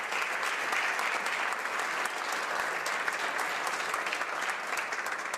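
Members of the House of Commons applaud steadily in the chamber, a dense and even clapping that holds for several seconds without a break.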